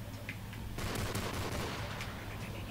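Rapid semi-automatic rifle fire from a scout rifle with an ACOG scope in Call of Duty: Modern Warfare 3, a dense burst of overlapping shots starting about a third of the way in and running to the end, loud against busy game noise.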